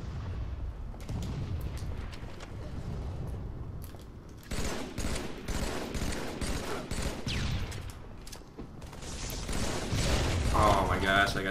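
Halo 3 weapon fire crackles in dense, repeated bursts and volleys, with people talking over the shooting throughout.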